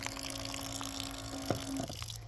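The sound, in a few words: water running from a campground water tap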